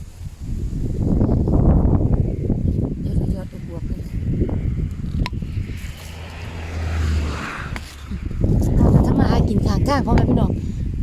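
Wind gusts roughly against the microphone outdoors while vehicles pass nearby, with rushing noise rising and falling under a voice that speaks through much of it.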